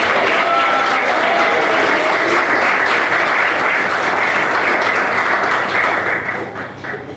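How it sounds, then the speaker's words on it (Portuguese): A church congregation claps along during a sermon, a dense, sustained wash of many hands, loud and continuous, tapering off near the end. "Pode bater palmas"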